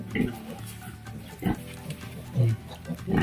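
Sow nursing a litter of eight newborn piglets in a farm piggery, with low grunts and snorts recurring in short bursts, close by, under faint background noise.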